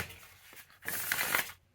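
Linen-finish tarot cards are shuffled up close, a soft papery riffle followed by a louder, denser flutter of cardstock that stops abruptly.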